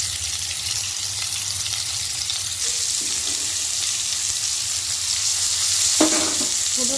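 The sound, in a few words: potatoes and cauliflower frying in oil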